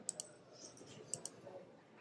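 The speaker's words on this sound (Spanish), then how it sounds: "Y al darle clic," Mouse clicks on a web page, a few faint, crisp, isolated taps in pairs, close by and quiet, with no talking.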